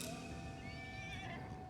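Horse neighing in a video game, a faint, brief whinny with a rising and falling pitch over low background rumble and soft hoof-like tapping.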